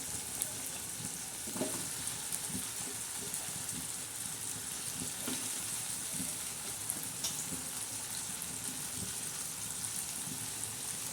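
Okra pods stuffed with crushed peanut powder frying in a pan, a steady close sizzle with a few soft clicks and scrapes as pieces are added and settle in the oil.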